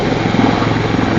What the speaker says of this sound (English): The Mark 8 tail rotor goes round in the correct direction, i.e. it cuts the downflowing air from the main rotors